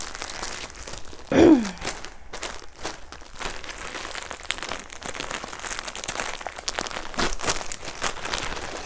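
A plastic bag crinkles as yarn is pulled out of it, with a sharp rustle early on followed by scattered softer crackles and handling noise.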